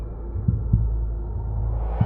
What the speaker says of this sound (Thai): เงียบจนคุณได้ยินเสียงหัวใจเต้นของ ตัวเองรวมถึงเสียงหายใจด้วยครับ